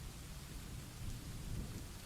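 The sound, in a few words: rolling thunderstorm with rain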